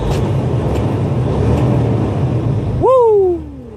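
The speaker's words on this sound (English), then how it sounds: "and my truck's running good" A Freightliner truck engine idles with a steady, loud low rumble, then near the end a voice lets out a rising-and-falling whooping shout over it.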